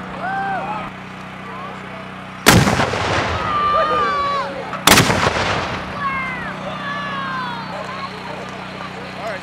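A homemade cannon mounted on a garrison carriage fires two loud, sharp blasts a couple of seconds apart, each with a booming rumble that trails off, while birds chirp in the background.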